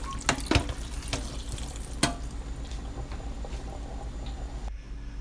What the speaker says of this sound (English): So I'm washing the leaves, wash them